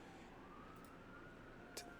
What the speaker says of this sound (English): there's an ambulance going crazy in the background